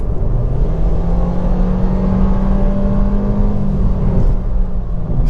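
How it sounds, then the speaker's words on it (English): A car accelerates with vehicle dynamic control switched off, a loud, steady interior engine drone and road rumble holding for several seconds with no talking. "let's try an acceleration right here"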